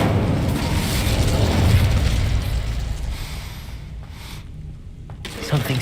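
The Incendio fire spell is cast at a gate in Hogwarts Legacy, producing a loud, sustained whooshing fiery roar that swells and then fades, followed by a few sharp clicks.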